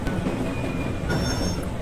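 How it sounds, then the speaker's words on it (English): A red and white train rumbles steadily across a big bridge, wheels clattering and thin metallic squeals sounding over the continuous, close rail noise. "It is a red and white color train."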